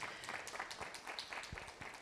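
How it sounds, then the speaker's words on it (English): An audience applauding at a ceremony, heard as brief, fairly faint, steady clapping from a crowd that carries on without a break. "Let's give them one more round of applause."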